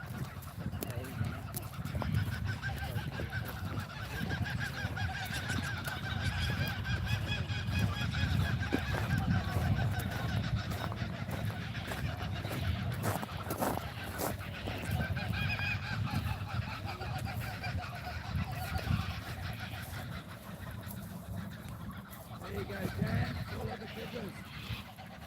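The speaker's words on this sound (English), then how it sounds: "No, it's a parrot, it's a cockatoo." A cockatoo calls from a treetop, giving a long, continuous run of harsh, raucous squawks outdoors with a person speaking now and then.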